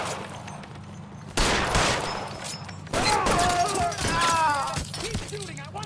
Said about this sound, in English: Keep shooting. I want him dead.